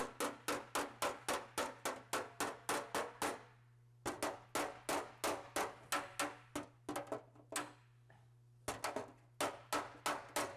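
A body hammer strikes the shroud panel of an Austin-Healey 3000 in quick, even runs of sharp metallic blows, each burst about a dozen hits, broken by short pauses, close and distinct over a low steady hum.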